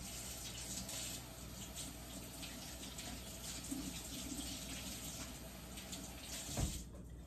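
Tap water runs steadily while a Victorinox Grand Maitre kitchen knife is rinsed under it after sharpening, a soft continuous splashing with a brief louder knock near the end.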